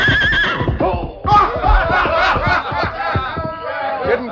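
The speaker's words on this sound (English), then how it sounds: "A horse as good as this one looks to be won't like any strangers getting on him." Silver the horse neighs and whinnies loudly, close up, in an old radio drama as he bucks off a rider, one long shrill whinny followed by a rougher, snorting run of neighs.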